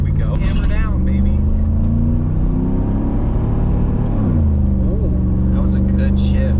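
A car with a 4L65E automatic transmission pulls hard, its engine rising and then dropping as the gearbox shifts, with loud, close engine and road rumble throughout and voices breaking in at points.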